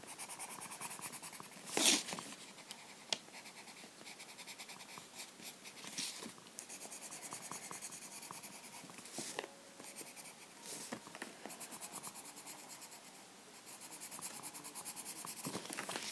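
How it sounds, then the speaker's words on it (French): A purple pencil colouring in the pupil of a drawn manga eye, a close, quiet continuous scratchy scribbling with short strokes and occasional louder scrapes. "vous devez colorier la pupille. Ah non, le voilà, en violet."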